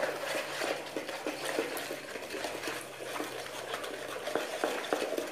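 Milk is stirred quickly into an egg mixture for pastry cream. A whisk scrapes and clinks steadily against a bowl, with a continuous wet swishing and no speech.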